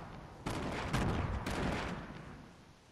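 A few muffled distant gunshots and a rumbling burst of fire from Fortnite, fading out over a few seconds with no talking.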